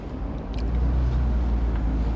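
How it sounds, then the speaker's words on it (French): A Mercedes-Benz 230 SL Pagode, a classic roadster, driving around a tight roundabout, heard as a steady low engine rumble with road noise, heard from inside the car, continuous and moderately loud. "on va tester la voiture sur un rond-point assez serré"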